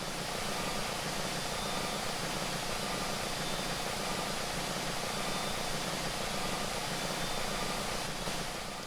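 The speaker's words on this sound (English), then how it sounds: "I'm sorry about the engine sound, because it was really annoying." A rocket engine roars in the video game Kerbal Space Program, a loud, unbroken broadband rumble that holds steady throughout with no voices.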